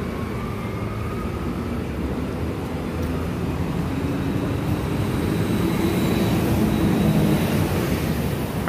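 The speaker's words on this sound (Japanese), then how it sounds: "はい、列車が進入してまいります。" A Meitetsu train rolls into Higashi-Nagoyakō station on the Chikkō Line, a steady low rumble of wheels and motors that swells gradually as it approaches, heard alone without talk.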